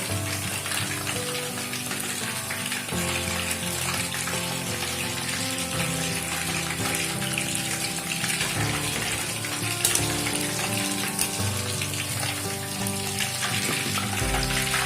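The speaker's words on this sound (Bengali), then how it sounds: "এভাবেই সমস্ত পাকোড়াগুলো আমি ভেজে নিচ্ছি।" Pakoras fry in oil with a continuous dense crackling sizzle, an even bubbling hiss that runs steadily at close range without pause.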